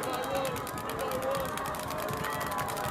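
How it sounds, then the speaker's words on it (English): A crowd at a high school football playoff game at Stoney Creek High School roars steadily in the background, with someone talking over the continuous noise throughout. "You can hear the Cougar crowd"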